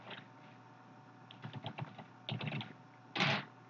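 A new computer keyboard being typed on, with a few short bursts of keystrokes ending in a louder clack, close and fairly quiet, with no voices.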